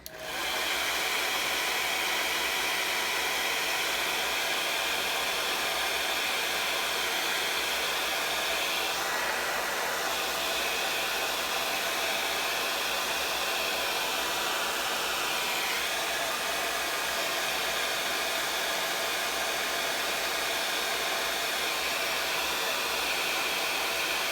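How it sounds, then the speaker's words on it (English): A hair dryer blows steadily and loudly throughout, a constant whooshing roar with a slight shift in pitch partway through. "grab your handy dandy hair dryer"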